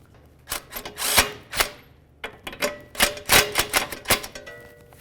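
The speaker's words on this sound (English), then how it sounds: "Start on that upper mounting nut, bottom that out, and torque it to 20 foot-pounds." A ratchet or torque wrench clicks in quick bursts while the upper tie rod end mounting nut on a 2012-2016 Subaru Impreza steering knuckle is tightened. Sharp metallic ticks come in irregular clusters, close and fairly loud, with short pauses between.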